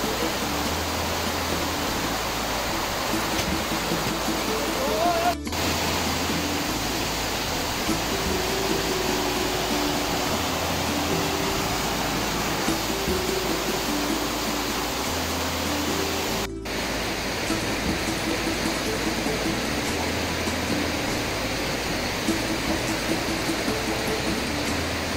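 The Bhimber waterfall in Azad Kashmir roars as a dense, steady wash of rushing water, loud and unbroken for the whole stretch, with two brief dropouts and no talking.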